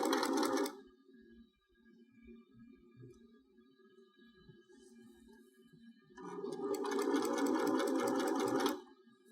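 A sewing machine stitches a quilted trivet, a loud close burst of rapid stitching, a quiet pause with faint handling, then a second sustained run of stitching.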